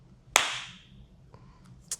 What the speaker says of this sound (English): So let me just clap y'all.